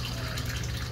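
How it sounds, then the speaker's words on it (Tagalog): Water spills over the edge of a concrete crayfish pond in a steady, close, rushing gush that continues evenly without pause. "madumi na yung tubig, nagpapa-overflow tayo."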